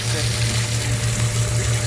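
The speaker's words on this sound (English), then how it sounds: "So I'm just gonna keep back flushing this." Water back-flushing dirt out of an aquarium filter, a loud close rush and hiss with a steady low pump hum underneath, continuous throughout.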